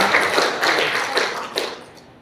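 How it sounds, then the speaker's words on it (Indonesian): An audience at an in-house education training session claps in a brief, fairly close round that thins out and fades within about two seconds. "tepuk tangan untuk Bu Ari."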